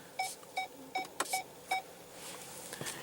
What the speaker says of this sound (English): And you also do have rear parking sensors too